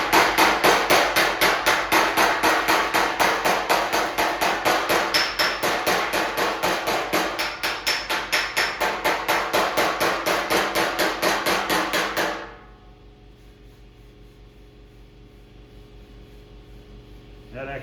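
A hammer strikes autobody sheet metal backed by a dolly in rapid, even, ringing blows, loud and close, continuing for about twelve seconds before stopping abruptly into quiet room hum.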